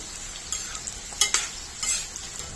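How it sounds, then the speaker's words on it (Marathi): Okra frying in hot oil in a pan, a close, even sizzle with a few sharper crackles and spatters popping out at irregular moments, no talking. "भेंडी तेलामध्ये चांगली पाच मिनिटं तळून घ्यायची"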